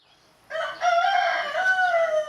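Native Thai chicken farm raising black-tailed and black-boned breeds, where a rooster crows one long, loud, sustained call close by, starting abruptly after a quiet moment and holding steady to the end.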